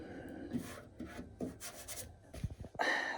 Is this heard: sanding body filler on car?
yes